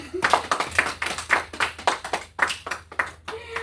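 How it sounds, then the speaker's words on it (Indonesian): Children in a classroom clap their hands in a quick, steady run of sharp claps lasting a few seconds, fairly close, with a brief voice near the start. "Anak-anak, berikan tepuk tangan untuk kelompok 1."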